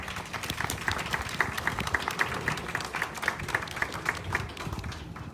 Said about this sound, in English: So please give them all a round of applause.